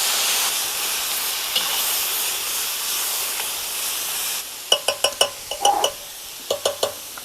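Continuous hiss and sizzle of borscht vegetables cooking in a pan, followed by a series of scraping spoon strokes in quick bursts near the end.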